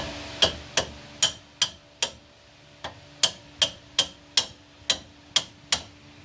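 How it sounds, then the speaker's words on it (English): Sharp metallic hammer taps on a stuck axle of a 2012 Mini Cooper Countryman ring out close by, about fourteen in a steady rhythm with one short pause partway through. "we're just gonna tap on it with the hammer a little bit"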